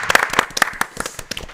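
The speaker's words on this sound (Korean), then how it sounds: "우리 예배 수고했는데 우리 한번 박수해 드릴까요?" A church congregation claps for the worship team, a brief scattered patter of hand claps with uneven individual strikes, close and moderately loud.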